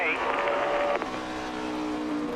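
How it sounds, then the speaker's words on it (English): A NASCAR race car's exhaust roars on the track at the 2008 Bank of America 500, a loud engine tone sweeping as the car passes, with race commentary over it. "I can hear the exhaust."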